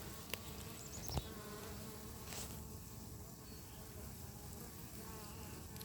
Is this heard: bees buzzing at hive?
yes